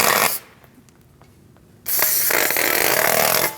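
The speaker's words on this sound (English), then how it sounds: "We're going to clean everything up with some brake clean." Aerosol brake cleaner sprayed onto rear parking brake parts of a 2008-2014 Mercedes-Benz C300, two loud close hissing bursts separated by a quiet pause.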